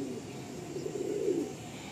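Andhra pigeons coo softly in a low, rolling murmur that swells and fades over a couple of seconds, close by against a faint steady background hiss, with no talking.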